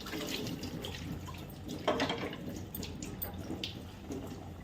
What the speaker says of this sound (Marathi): मी थोडं पाणी वापरते